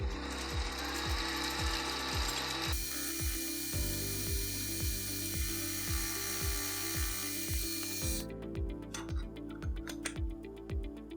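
A milling machine facing the ends of a metal part runs steadily with a low, repeating mechanical chatter and a bright metallic hiss of cutting that changes character twice along the way.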